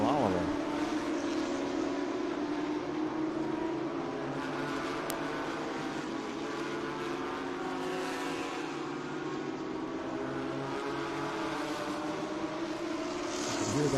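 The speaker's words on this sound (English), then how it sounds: "You can hear that Bentley rumbling by our commentary position." A Bentley race car's deep exhaust drones continuously at Watkins Glen, rumbling by at moderate distance while a voice talks over it.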